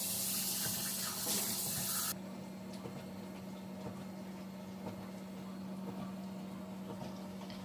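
Hot water is poured out and cold water is run in from a tap. A loud rushing pour lasts about two seconds, then a quieter, steady trickle continues with a low hum underneath.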